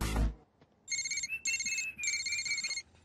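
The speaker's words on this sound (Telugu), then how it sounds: "ఈ పొట్టడు ఎప్పుడు పనిలో ఉన్నప్పుడే ఫోన్ చేస్తాడు." A phone ringtone chimes in three bursts of bright repeating tones, loud and close, with short gaps between rings, following a brief low thump at the start.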